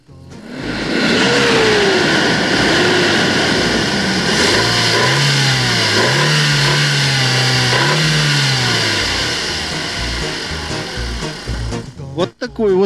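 A Great Wall SUV's 2.4-litre engine revs repeatedly, rising and falling in loud surges over a steady idle, close by, with a voice talking over it near the end.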